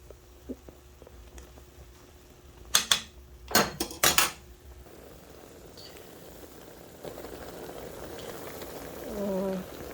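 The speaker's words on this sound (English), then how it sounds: "Thought I would show you what it looks like when it's boiling." A pot of potato soup bubbles softly at a low simmer, broken by a few sharp metallic clinks of a utensil against the pot.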